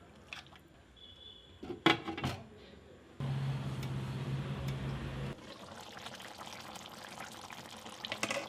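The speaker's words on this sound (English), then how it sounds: "Add 2 cups of water." Water pours steadily into a pot of cooking goat head for a couple of seconds, followed by a softer continuous splashing hiss, close by after some clattering.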